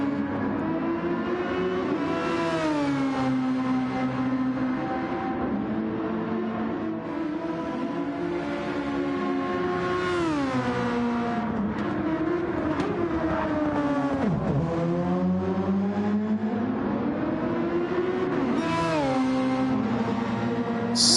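Super Formula 23 open-wheel race cars in a sim racing game scream past at Grand Valley, their high-revving engines rising and falling through gear changes in a dense, continuous, loud drone with several cars audible at once.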